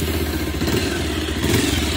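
A Bajaj Pulsar 220F motorcycle exhaust rumbles close by, a steady throbbing idle note with a slight rise in revs partway through, loud and continuous.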